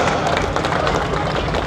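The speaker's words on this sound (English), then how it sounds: "round of applause for Shannon's work here" An indoor car show audience at MotorEx claps and cheers together, making a dense, loud burst of applause close by for under two seconds.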